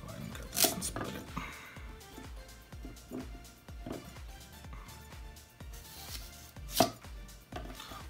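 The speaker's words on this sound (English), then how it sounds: "Let's go ahead and cut this and split it." A 240mm IO Shen gyuto knife chops food on a board in a steady series of crisp knife strikes, with a couple of sharper louder cuts standing out.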